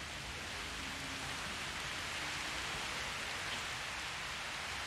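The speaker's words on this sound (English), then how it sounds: "God, look at this rain!" Steady heavy rain in Jurassic World Evolution, dense continuous hiss of falling water with no breaks, loud and even, no voices over it.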